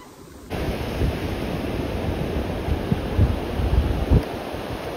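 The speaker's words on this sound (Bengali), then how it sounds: "ওই দেখো বড় ঢেউটা আসছে" Sea waves rolling in on Mandarmani beach make a steady wash of surf noise after a quiet start, with low thumping surges as the bigger breakers land, close by and without voices.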